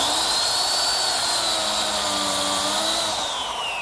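A biscuit joiner cuts biscuit slots in wood, giving off a continuous high whine from the spinning blade whose pitch dips and shifts slightly as it bites into the workpiece, close and fairly loud.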